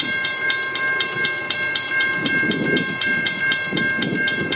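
N-class diesel locomotive hauling the Ballarat beer festival train, with a loud, close engine drone and rhythmic clickety-clack of wheels over rail joints repeating steadily throughout.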